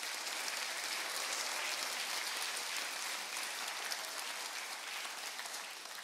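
An Easter Sunday church congregation bursts into dense, continuous clapping of praise, a broad wash of many hands at moderate distance that holds steady and tapers slightly at the end.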